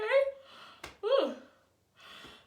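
A woman gives a big, drawn-out vocal yawn during a voice warm-up, with a rising open-mouthed groan, a sharp breath in, then a second sighing yawn trailing off into a soft exhale.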